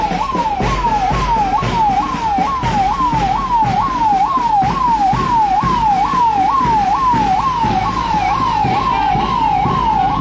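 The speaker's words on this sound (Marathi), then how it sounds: "बीड नगर परिषदची अग्निशमन विभागाची गाडी सुद्धा प्रमुख अतिथी यांना मानवंदना देण्यासाठी मंचासमोर येत" A Beed municipal council fire brigade vehicle sounds its siren at a Maharashtra Day parade, a loud, steady rising-and-falling wail repeating about every half second throughout, close by, over a low engine rumble.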